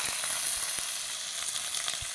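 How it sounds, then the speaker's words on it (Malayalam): Mustard seeds sizzle in a little hot oil in a pan on the stove, the start of a potato and coconut milk curry: a steady close sizzle with scattered sharp pops and crackles, no voices. "ലേശം ഓയിൽ ഒഴിച്ചു കൊടുത്തു. കുറച്ച് കടുക് ഇട്ട് കൊടുത്തു."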